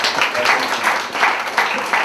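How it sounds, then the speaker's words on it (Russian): Audience applause for Sergei Yuryevich at the Atăl Asamachĕ poetry festival, a dense, steady wash of many hands clapping that swells and dips slightly over two seconds, fairly loud and close. "Аплодисменты Сергею Юрьевичу."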